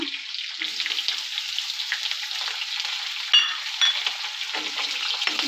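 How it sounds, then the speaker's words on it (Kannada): Green chillies frying in hot oil for toor dal, a steady close sizzle with scattered crackles and a few sharp spatters, with no talking. "ಮೆಣಸಿನ್ಕಾಯಿ ಎಲ್ಲ ಚೆನ್ನಾಗಿ ಫ್ರೈ ಆಗುತ್ತೆ"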